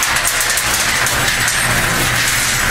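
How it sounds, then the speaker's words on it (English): Half-yard cement mixer drum turning with dirt inside, a loud continuous grinding rattle and rumble close up, steady throughout with no talk. "There's some dirt in there that's making that noise"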